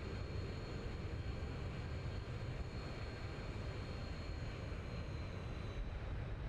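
Simulated Boeing 737 landing in the X-Plane 11 flight game: a constant, even engine and airflow drone, fairly quiet and unbroken, with no voices over it.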